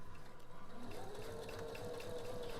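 Sewing machine stitching a quilt seam, a quiet rapid rhythmic chatter of needle strokes with a rising motor whine running steadily throughout, close by with no talk.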